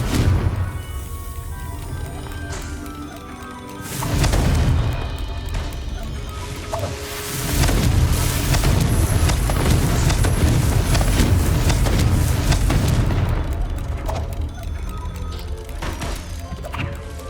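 Confringo explosive spell blasts in Hogwarts Legacy, heavy crashing booms and thuds rolling over a dense, sustained game soundscape, loud and close, with little talk.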